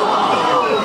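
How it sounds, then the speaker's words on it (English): A radio drama crowd lets out a brief collective gasp, a short dense burst of many voices held at steady loudness. "The crowd gasps."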